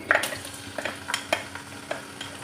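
Chopped onion frying in hot oil in a pan to light brown, a low steady sizzle under repeated sharp clinks and scrapes of a spatula stirring in an uneven rhythm.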